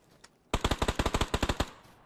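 Rapid automatic gunfire in the battle-royale video game PUBG: a single faint shot, then a loud, close burst of about a dozen evenly spaced rounds that stops abruptly, with no talk.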